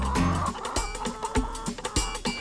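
Chickens clucking in short, close, uneven bursts, with a few sharp squawks over a busy background.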